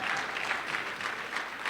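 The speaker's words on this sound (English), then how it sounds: "Let's give him a real big round of applause," An audience claps for chairman Sharif Street at a Pennsylvania delegation breakfast meeting, a short, steady burst of applause at moderate volume.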